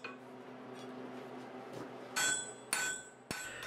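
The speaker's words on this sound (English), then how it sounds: "tip your hammer over slightly until it starts forging with the rounded corners of the hammer face" A forging hammer strikes a steel bar on an anvil three times, each blow a sharp, bright metallic ring over a quiet shop background.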